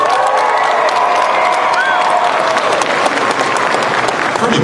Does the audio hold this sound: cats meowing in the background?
no